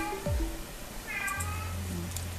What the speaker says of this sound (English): She's a crazy cat.